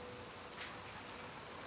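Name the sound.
rain in the video game Little Nightmares 2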